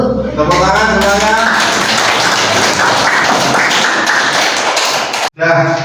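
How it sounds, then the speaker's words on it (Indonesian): A school class bursts into dense, loud applause after a biology lesson's presentations, a thick wash of many hands clapping for several seconds, with speaking just before and after. "Tepuk tangan semuanya."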